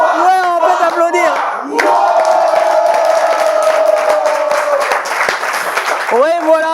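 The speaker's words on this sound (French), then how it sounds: "on peut t'applaudir" A studio audience for a French Bible quiz show cheers, whoops and applauds loudly throughout, with excited voices shouting over the clapping.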